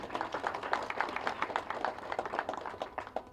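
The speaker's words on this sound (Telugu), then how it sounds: "ప్లీజ్ క్లాప్స్ డైరెక్టర్ గారికి." An audience applauds a film director at a movie trailer event, a steady patter of many hands clapping together at moderate loudness throughout.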